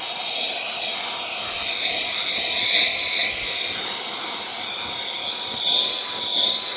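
A MECO portable vacuum blower runs at its lowest speed, giving a steady, loud, broadband rushing whine with faint tonal hums. The noise holds constant throughout with slight swells.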